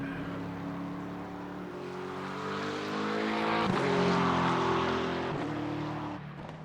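Race car engine in iRacing at Brands Hatch, a loud continuous grunty drone that rises and falls through gear changes as the car accelerates.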